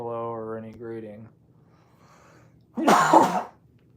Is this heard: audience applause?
no